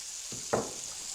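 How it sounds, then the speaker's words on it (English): A brief sizzle bursts up as fiddleheads hit a hot frying pan, a short crackling hiss over a steady background hiss. "Hear that sizzle?"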